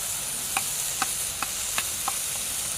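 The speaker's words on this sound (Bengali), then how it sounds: "এখন একটু মশলাগুলো নাড়াচাড়া করে নিচ্ছি" Spices and chilli powder stirred in a pan for a rohu fish curry with potato and cauliflower, a steady faint sizzle under about six soft, evenly spaced scrapes of the spoon, with no voices.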